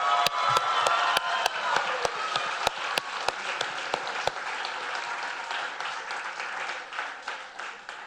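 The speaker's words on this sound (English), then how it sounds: "I want to give them a big round of applause" An audience applauds graduating students at a university capstone presentation event, a dense, steady wash of clapping with a few sharp, close individual claps early on, gradually thinning toward the end.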